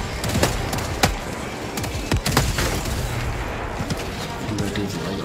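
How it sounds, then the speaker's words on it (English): Enemy artillery fire in the Helldivers 2 video game: several heavy booming impacts land at irregular intervals over a constant rumbling battle din. "Warning, you are in range of enemy artillery."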